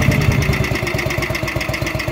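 A 1967 Matchless G80CS 500cc single-cylinder motorcycle runs loud and close, its engine thumping in a steady rapid beat with no voices over it.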